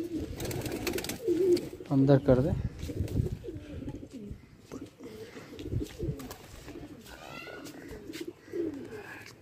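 Pigeons coo and flutter close by in a loft, with someone talking over the cooing.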